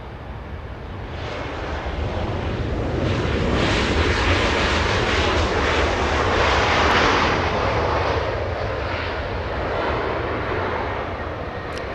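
A Sun Country Airlines jet, a 12-year-old aircraft on a four-hour flight from Minneapolis, arrives at Los Angeles International Airport. Its engines make a loud, sustained roar that swells toward the middle and then eases slightly.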